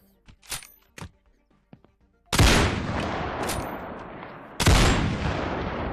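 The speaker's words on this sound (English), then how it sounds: "So let's just use the sniper to deal a bit more damage." Sniper rifle shots in a video game: two loud, sharp blasts about two seconds apart, each with a long rolling echo, preceded by a few quieter clicks and thumps.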